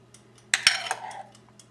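A spoon clinks against a bowl of creamy hollandaise sauce, giving a few close, bright scraping taps that fade out quickly over a low steady hum.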